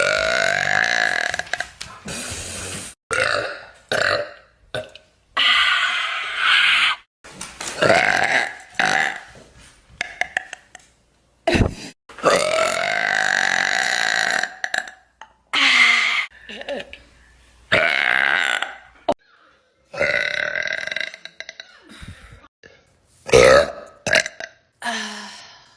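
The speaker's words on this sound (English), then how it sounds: "I'm trying to burp right now." A woman lets out a long series of loud, drawn-out burps and belches, one after another with short pauses between, close and prominent.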